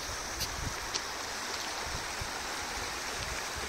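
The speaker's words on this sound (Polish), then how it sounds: "Odkryłem strumyczek." Steady broadband rush of running water, a small mountain stream near Kohlberg peak in Bavaria, Germany, flowing close by with a continuous gentle babble and no voices.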